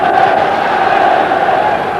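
A dense roar of a football stadium crowd at a 1995/96 Scottish Cup quarter-final between Celtic and Dundee United, a continuous loud wash of massed voices with no single caller standing out.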